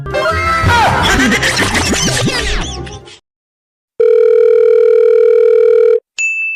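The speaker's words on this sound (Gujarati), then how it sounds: "તમે જેને ફોન કરો છો એના હાથમાં જ ફોન છે તો પણ ઉપાડતા નથી" A telephone call tone rings out unanswered in a Gujarati comedy sketch, coming after a burst of busy clattering sound and a short silence, then a steady loud two-second tone stops and a brief higher beep follows.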